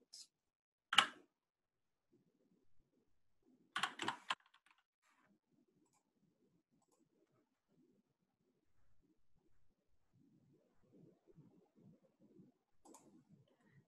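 Computer keyboard keys clack in two short bursts of typing in a quiet room, with faint rustles and a soft click later.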